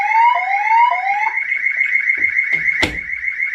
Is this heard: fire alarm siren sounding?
yes